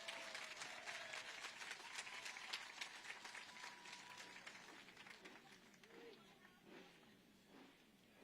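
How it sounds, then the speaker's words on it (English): Scattered applause from the audience at a Supercross pre-race press conference in Las Vegas, strongest at first and fading over several seconds as a few voices begin speaking beneath it. "Round of applause."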